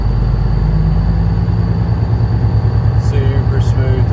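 Diesel engine of a 2015 Kenworth glider truck idling with no catalytic converter, a steady low rumble heard up close and continuous, with brief higher clatter near the end.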